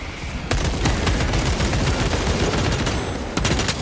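Rapid, loud gunfire from Warhammer 40K Space Marine 2 hammers continuously in a dense close-range barrage, with sharp volleys breaking in at the start and near the end.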